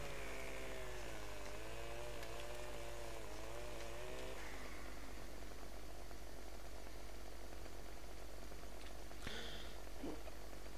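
Chainsaw in the farming video game Farming Simulator 15, a buzzing engine whine that wavers for about four seconds then cuts off, leaving faint background noise with a couple of brief clicks.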